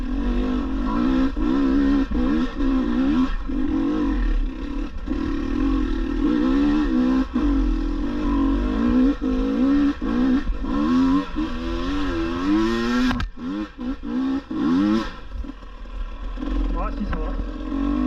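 A GasGas EC 300 enduro motorcycle from 2022, set in hard mode, climbs a rain-damaged trail with a loud, close engine that rises and falls steadily with throttle, a brief sharp blip partway through, and a rider's voice speaking over it.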